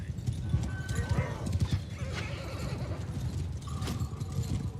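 Hooves clip-clop at a gallop while horses neigh and whinny in a Warhammer mod video game, with a voice speaking over the clatter.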